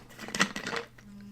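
League of Legends kill chime while playing Zed: a short cluster of bright, metallic, coin-like clinks and shimmering tones lasting about half a second, clear against quiet game background.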